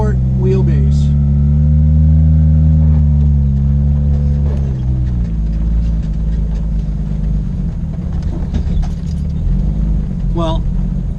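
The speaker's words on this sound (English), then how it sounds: "this is supposed to be a Jeep trail, and I am in a older Jeep" An older short-wheelbase Jeep, not an Unlimited, rumbles along a narrow forest trail, its engine droning low and steady up close, pitch shifting as it works over the ground, with brief scrapes and knocks and a voice speaking over it.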